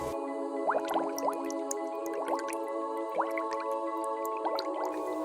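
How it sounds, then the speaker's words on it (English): Water draining from a pool, heard as a run of scattered drips and gurgling plops over a steady flowing hum, close and continuous. "Water should be flowing. And the pool is draining."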